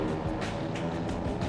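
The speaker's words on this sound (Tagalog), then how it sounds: "Ang katahimikan binabasag ng ingay mula sa mga nagngangalit na tunog ng makina ng kotse." Car engines roar from an illegal night-time street drag race, a steady loud broadband rumble with surging swells and no clear pauses.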